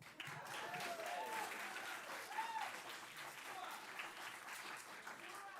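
Faint, steady applause from an audience at a school board meeting, a diffuse wash of clapping heard from a distance with some crowd noise and possible voices mixed in, holding evenly throughout.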